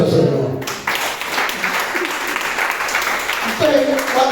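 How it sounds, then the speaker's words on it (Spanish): Church congregation applauding together, a steady wash of clapping with voices mixed in throughout. "Darle un aplauso al Señor."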